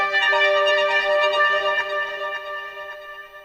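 A dark, vintage-style brass-like sampled texture, compressed and run through delay so its sustained tonal harmonics ring on and slowly fade, heard alone without talk.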